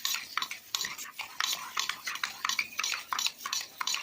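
A spoon stirs salt and sugar into a Bombay toast mixture in a bowl, giving a quick, rhythmic scraping and clinking that repeats close up with no voices.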